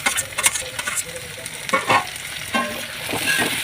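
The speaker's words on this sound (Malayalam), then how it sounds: "ഇനി നമുക്ക് അതിലേക്ക് തക്കാളി ഇടാം." Tomato goes into sautéed onions in a pan for a crab curry, with a crackling sizzle and uneven bursts of spatula scraping and stirring close by.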